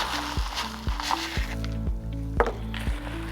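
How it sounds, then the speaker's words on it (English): A utensil stirs granola with peanut butter and honey in a bowl, making rhythmic knocks and thumps about twice a second. Under them runs a soft, sticky scraping, close by, with no talk. "I'm just gonna mix that in"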